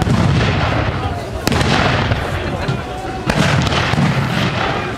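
Musket volleys and cannon fire boom and crackle at the Austerlitz battle reenactment, dense and continuous with sharp reports standing out, heard from a distance with people talking and crowd noise underneath.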